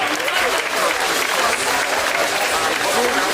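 Audience applause fills the hall at an official commissioning ceremony, a steady, dense wash of clapping from a large crowd that holds at full strength throughout, with no pause.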